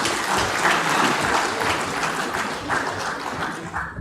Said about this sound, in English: Ladies and gentlemen, with a round of applause,